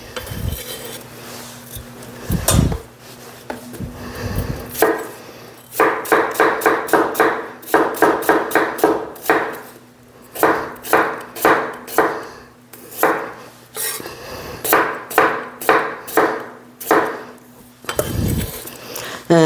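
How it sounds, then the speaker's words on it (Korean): Spring cabbage (bomdong) is sliced flat on a cutting board with a kitchen knife: a quick run of crisp, close, rhythmic knocks comes in bursts, separated by short pauses. "배추도 납작 이렇게 납작납작하게 이렇게 썰어서"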